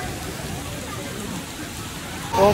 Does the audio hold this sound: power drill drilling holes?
no